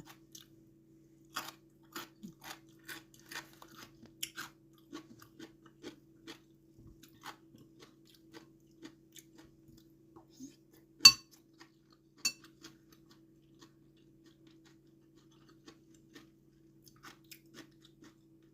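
Crisp, crunchy chewing of pickled mustard greens, close up, with repeated bites and occasional light clinks of utensils in a quiet room.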